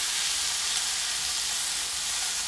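Diced tomatoes fry on high heat in a pan, giving a loud, steady, unbroken sizzle and hiss that runs evenly from start to finish with no voices.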